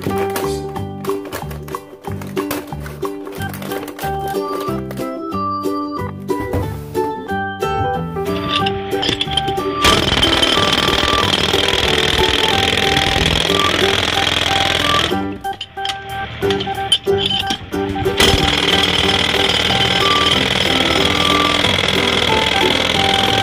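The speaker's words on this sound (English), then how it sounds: "jackhammer" A toy jackhammer from a children's tool bench set rattles in a steady, rapid mechanical buzz for more than twenty seconds, loud and close, with its sound shifting in tone partway through and briefly stopping before resuming.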